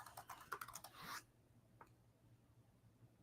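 A short burst of quick keystrokes on a computer keyboard, close and fairly quiet, tapping rapidly for about a second, then a single faint click after a pause in a still room.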